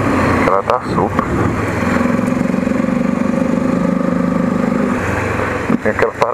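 Motorcycle engine with no air filter revving loudly and steadily up close, a late-night ride on a street bike, with a rough sustained drone and brief blips at the start and end; a voice is heard over it.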